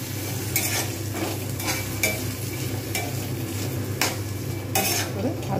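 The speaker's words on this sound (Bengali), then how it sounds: "এইবার আমি ফ্রাইং প্যানে দিয়ে দেবো গোটা গরম মশলা ফোড়ন, এবং এর সঙ্গেই আমি আলু দিয়ে দেবো" Potatoes fry with whole garam masala in a frying pan, a steady soft sizzle broken by spatula scrapes and light metal knocks roughly once a second.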